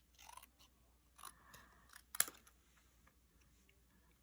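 Scissors snip through card stock pieces during handmade Stampin' Up! card making, a few quiet cuts spread across the moment with one sharper, louder snip near the middle, close and alone without talk.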